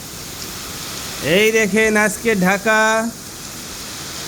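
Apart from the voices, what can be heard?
heavy rain falling in Dhaka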